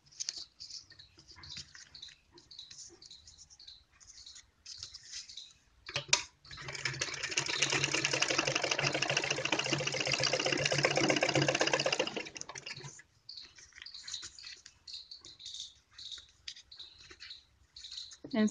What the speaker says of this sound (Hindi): यहां से मशीन को रोक के चलना है।